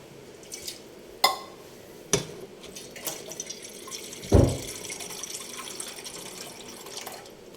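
Water runs and splashes into a vessel with a few sharp clinks and knocks, one louder pour burst midway, fairly close and quiet otherwise.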